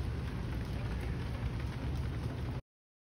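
Light rain dripping onto an outdoor table, a steady, fairly loud wash of broadband patter with no distinct individual drops or talk, ending abruptly before the clip finishes.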